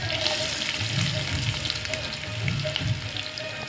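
Potatoes frying in hot oil for sabudana khichdi, a loud, steady crackling sizzle close up, with soft bubbling pulses underneath and no voices.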